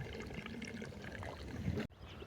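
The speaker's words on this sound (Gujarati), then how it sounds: "અંદર તો મોટો દર છે ને પાણી જાય છે અંદર" Water trickles and gurgles steadily into an animal burrow in a farm field at close range for about two seconds, then cuts off abruptly.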